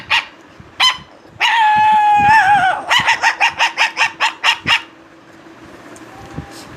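A man imitates a small puppy with his voice: a couple of sharp yips, a drawn-out whining whimper, then a rapid run of about ten high yapping barks, close and clear, fading to quiet.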